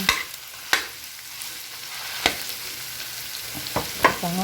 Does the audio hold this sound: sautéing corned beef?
yes